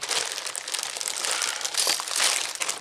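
Crinkling of a plastic bag of vintage jewelry being opened, a close, continuous rustle and crackle with no talking.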